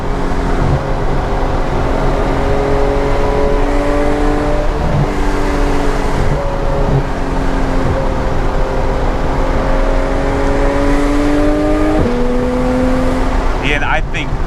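A Porsche 911 GT3 engine drones close and steady with a deep, sustained note, then its pitch shifts sharply near the end.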